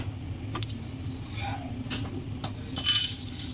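Dry-roasted coriander and cumin are scraped from a pan onto a plate, giving a few sharp metallic clinks and taps scattered over a low background hum.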